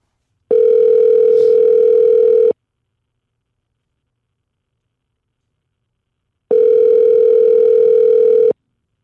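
Ringback tone of a phone call to a Pizza Hut in Saudi Arabia: two loud, steady electronic buzzing tones, each about two seconds long, separated by a long silent gap.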